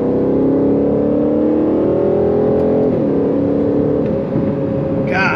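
A 2022 Aston Martin Vantage F1 Edition pulls hard under acceleration, its engine note rising steadily as a loud, continuous drone heard from inside the cabin, easing off briefly near the end.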